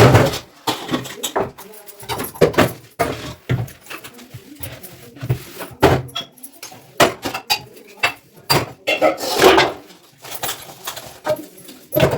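Dishes and utensils being gathered and stacked late at night after a large event, a steady run of sharp clinks, clatters and knocks, close and busy for the whole stretch, with no voices heard.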